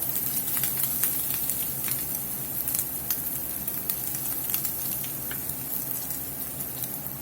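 Bacon sizzles steadily in a pan with sausage cooking nearby, a continuous crackling hiss dotted with sharp pops and spatters, close and fairly loud, with no talking over it.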